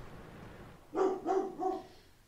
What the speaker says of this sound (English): So my dog's barking. I'm sure you can hear that.